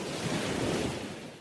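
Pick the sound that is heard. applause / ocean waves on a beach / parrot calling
ocean waves on a beach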